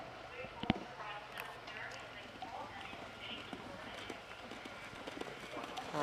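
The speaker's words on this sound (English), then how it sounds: "There is actually a loose horse on course" Hooves of a loose horse clip-clop across a cross-country course at an international eventing competition in a park, faint rhythmic thuds under a public-address voice and open-air crowd ambience.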